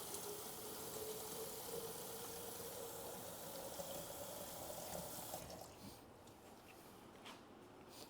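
Tap water runs steadily from a sink faucet into a container, a continuous near hiss that drops in level partway through and continues more softly.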